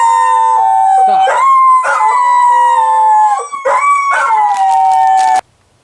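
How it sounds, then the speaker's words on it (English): Dogs howl at coyotes in a long, loud, close chorus of sustained wavering howls with a few sharper yips, ending abruptly after about five seconds. "They started barking at the coyotes"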